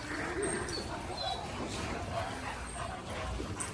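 German shepherds playing close by, with yips, whimpers and short barks scattered through a busy mix of low noise and faint background sounds.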